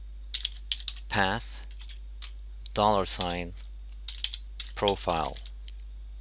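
Keyboard typing of a PowerShell command on a computer, light rapid clicks in short bursts beneath a man's speech, close and fairly quiet.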